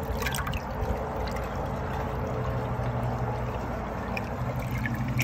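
An American Standard Luxor toilet flushes, steady rushing and gurgling water filling the space close by, fitted with a Fluidmaster 400A fill valve, continuing evenly for several seconds with no talk.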